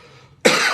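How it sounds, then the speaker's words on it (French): A single sharp cough from a preacher during a French-language Sunday sermon bursts out loud and close after a quiet stretch of faint room tone, ringing on briefly afterward. "Veuillez m'excuser pour la toux"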